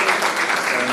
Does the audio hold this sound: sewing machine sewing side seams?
no